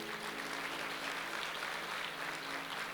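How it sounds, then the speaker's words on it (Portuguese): Church congregation at a sermon applauding in honor of God, a thick continuous roar of clapping hands, steady and moderately loud, with a faint held tone underneath and no speech. "Você pode dar um aplauso a Ele?"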